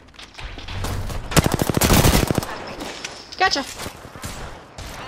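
Rapid automatic gunfire in the video game Apex Legends, a dense burst of loud shots lasting about a second, followed by scattered impacts and game effects, with a player speaking briefly.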